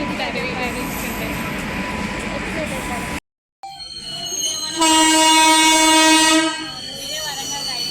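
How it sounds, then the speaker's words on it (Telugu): A train sounds its horn as it pulls into Warangal railway station, a loud sustained horn blast rising over the rumble of the cars after a brief gap, with people talking on the platform. "ట్రైన్ వస్తుంది."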